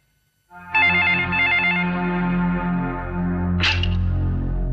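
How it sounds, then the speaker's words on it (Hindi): A telephone bell rings out after a brief silence, a loud, bright, continuous trilling ring with a sharp metallic burst near the end. "फोन बज रहा है"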